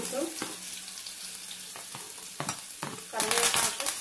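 Onions going into hot oil and frying with a crackling sizzle, a few soft knocks and clatters, then a louder burst of sizzling toward the end.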